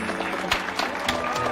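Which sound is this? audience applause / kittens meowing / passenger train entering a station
audience applause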